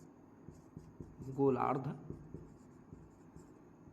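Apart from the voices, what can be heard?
writing on board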